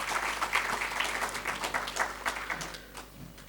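Audience applause for the Ropalekar family at a Roplekar Hospital heart-failure talk, a steady wash of many clapping hands filling the room for several seconds before thinning toward the end.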